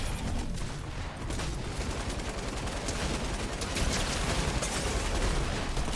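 SMG gunfire in the video game Fortnite, a dense continuous stream of rapid shots filling the whole stretch at steady loudness, with no talk.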